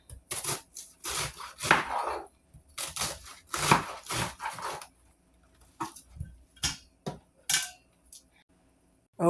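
Knife chopping strawberries on a cutting board for a strawberry pie, a series of sharp close taps in irregular clusters with quiet gaps between, plus faint clinks of dishes.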